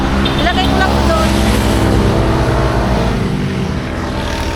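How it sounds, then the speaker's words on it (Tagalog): A motorcycle engine idles steadily with a low, continuous drone, then drops in level near the end as it is shut off, while voices talk over it. "Kapatayin ko lang yung motor."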